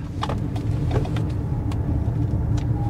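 A Lexus NX SUV rounds a roundabout, heard from inside the cabin as a steady low engine and road rumble with faint clicks and rattles over it.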